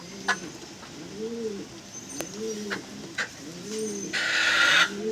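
A Madrasi pigeon coos repeatedly up close, soft rounded calls in a steady rhythm, with light rustling and a brief flutter near the end.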